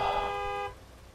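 In Gas Station Simulator, a single car horn blares as one steady, loud blast of just over half a second, then cuts off into a quiet room.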